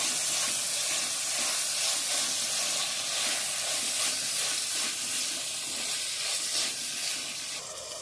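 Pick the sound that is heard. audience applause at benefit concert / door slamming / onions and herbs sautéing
onions and herbs sautéing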